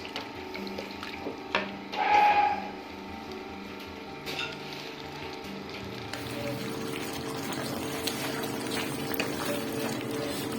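Kaleji masala, a spiced liver curry, sizzling and bubbling as it cooks down in a pot, with a steady low fry, occasional clinks and stirring clatter.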